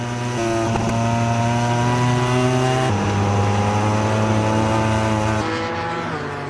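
Fabio Di Giannantonio's MotoGP racing motorcycle at the German Grand Prix, a loud close high-revving engine scream that holds steady, then drops pitch sharply at two gear changes before climbing again.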